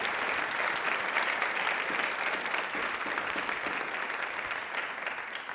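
Loud, continuous audience applause in honour of Babasaheb Ambedkar during a televised quiz show, a dense even roar of many hands clapping without pause.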